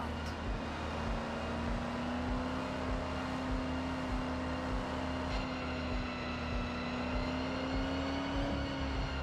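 A supercharged old GMC truck engine in the Forza Horizon racing game drones steadily and loudly at a near-constant pitch, rising slightly as it runs, with no talking over it.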